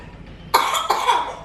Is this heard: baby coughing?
yes